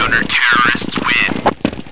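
Gunfire in Counter-Strike 1.6, rapid automatic bursts crackling loudly and close, with a burst near the middle and the end, mixed with game radio voice callouts.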